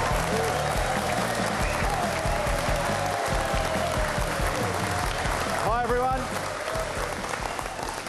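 A crowd of fans applauds steadily and cheers for the Jim Beam Racing V8 Supercars team, a dense, continuous wash of clapping with a few voices rising above it.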